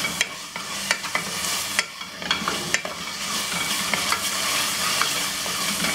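Ginger garlic paste sautéing with fresh mint and coriander in a pan for Tirunelveli-style chicken biryani, a steady close sizzle broken by several sharp stirring scrapes and clinks, with no voices.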